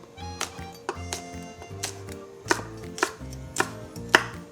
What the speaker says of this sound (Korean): 청양고추는 두 개 넣어줄게요. 송송 썰어 준비해 주세요.